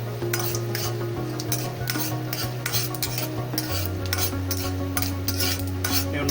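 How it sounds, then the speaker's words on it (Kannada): A ladle stirs onions frying in a pan, with steady sizzling and repeated scraping, clinking strokes against the metal throughout, close and fairly loud, with a low steady hum underneath and no talking. "ಚೆನ್ನಾಗಿ ಎಲ್ಲ ಕಡೆಗೂ ಗೋಲ್ಡನ್ ಕಲರ್ ತಿರುಗಲಿ ಅನ್ನೋದಕ್ಕೋಸ್ಕರ ಈ ಥರ ಆಡ್ಸೋದಕ್ಕೆ ಸೌಟಲ್ಲಿ ಆ್ಯಡ್ ಮಾಡ್ತಾ ಇರಬೇಕು."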